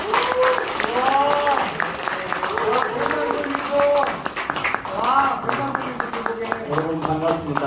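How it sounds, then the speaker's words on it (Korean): Audience applause welcoming poet Lee Eun-bong at a Korean book concert, steady broadband clapping throughout with voices and harmonic speech or music tones layered over it. "박수로 환영해 주십시오."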